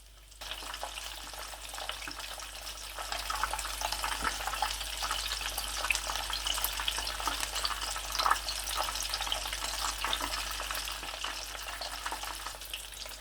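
Chicken leg pieces fry steadily in hot ghee, giving a continuous crackling sizzle that swells slightly and holds throughout, with no talking.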